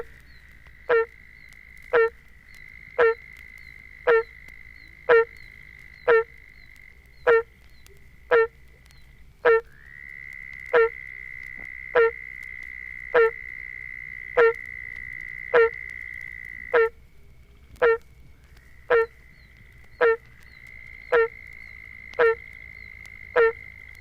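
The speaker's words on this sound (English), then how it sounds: "A peeping oak toad, a trilling southern toad, and a rattling swamp cricket frog are in the background." A barking tree frog (Hyla gratiosa) gives a steady series of loud, hollow honking calls about once a second near Statesboro, Georgia, while oak toads peep, a southern toad trills in long stretches and swamp cricket frogs rattle in the background.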